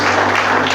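A church congregation applauding loudly during a worship service, a dense continuous wash of clapping over a steady droning hum, with no one speaking.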